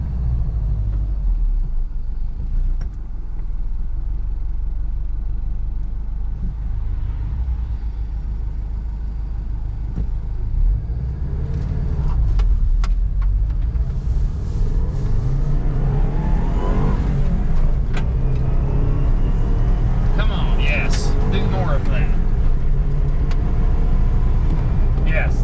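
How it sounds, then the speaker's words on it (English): A Saab 9-2X Aero's turbocharged engine rumbles steadily from inside the car, rising in intensity partway through with whooshing turbo air noise, while people talk over it. "It's just the turbo sounds."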